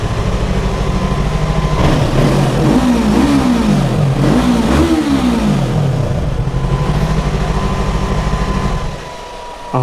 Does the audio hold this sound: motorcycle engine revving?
yes